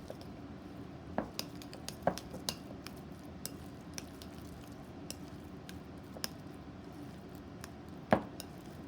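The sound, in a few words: stirring cheese filling mixture for tortellini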